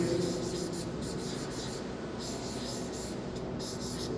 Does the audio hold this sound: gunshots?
no